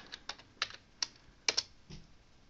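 Keystrokes on a computer keyboard used with an Altair 8800 computer: a handful of crisp, separate clicks at an uneven pace, close and fairly quiet in a still room.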